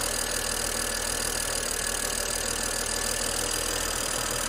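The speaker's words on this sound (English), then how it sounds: "Injectors are super loud." A BMW wagon engine running with loud fuel injectors, a steady close mechanical drone with a fast, even ticking throughout.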